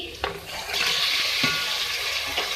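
Half a kilo of beef drops into a karahi of softened onions for a namkeen karahi gosht and sizzles steadily, with a few clanks and scrapes of stirring breaking through the loud, bright frying hiss.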